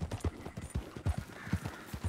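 Horse hooves clip-clop in a steady, fairly loud galloping rhythm while riding in Red Dead Redemption 2, the beats repeating evenly with no talk over them.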